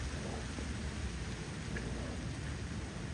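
Light rain, slowing to sprinkles, falls steadily outdoors as a soft, continuous hiss of drops with no voices and no distinct thunder.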